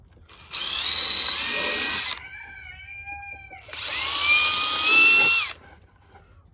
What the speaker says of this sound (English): pre-drill them.